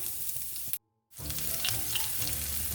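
Steady crackling sizzle of chopped onion frying in hot oil after mustard seeds, cut by a brief silent gap, then the sizzle returning slightly louder.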